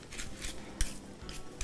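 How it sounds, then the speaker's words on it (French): A spoon working through a thick vegan pasta e fagioli mixture, soft muffled scrapes and dull knocks against a pot, close and quiet with a couple of sharper taps. "c'est vraiment épais comme mélange, donc je vais utiliser une cuillère"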